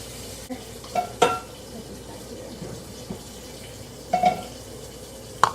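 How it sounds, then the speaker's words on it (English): Oil sizzles softly and steadily as fish fries in a pan, with a few brief clinks and stirring noises breaking in now and then. "until it stops sizzling so much, then that's when I take them out"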